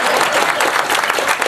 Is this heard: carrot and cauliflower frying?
no